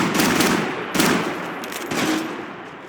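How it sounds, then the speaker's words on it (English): Dense, rapid gunfire in Max Payne 3 rattles continuously, loud and close, with bursts swelling at roughly one-second intervals. "Gunfire over Hoboken."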